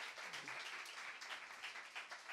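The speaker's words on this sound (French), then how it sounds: "On l'applaudit." Applause from a church congregation during a Sunday worship service, a steady dense patter of many hands clapping at moderate distance, continuous throughout with no speech.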